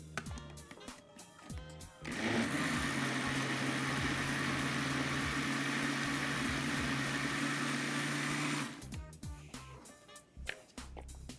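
A blender mixing batter for baked hot dog bake whirs loudly and steadily for about six seconds, starting and stopping abruptly, with faint clatter before and after.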